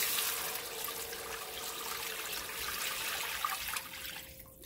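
Water pours steadily into a cooking pot for homemade beef bone broth, a close, continuous splashing rush that holds for several seconds and then eases off at the end, with no talking.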